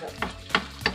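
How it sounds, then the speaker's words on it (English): Egg frying in a pan while a utensil stirs it, three distinct close scrapes spaced about a third of a second apart over a low background sizzle. "Keep stirring until it's cooked."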